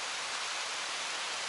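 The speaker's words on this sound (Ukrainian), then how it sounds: "І пішов дощик." Steady summer rain pours down outdoors in an arboretum, a dense, even hiss with no distinct drops standing out, loud and unbroken throughout with no voices.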